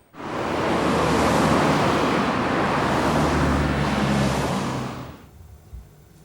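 A new Mazda MX-5 pulls away, a loud broadband rush of engine and tyre noise that swells quickly, holds for several seconds, then cuts off and fades as the car leaves.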